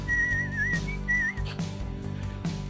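A clear, high whistled melody carries a few wavering phrases over a low background hum, with short pauses between notes.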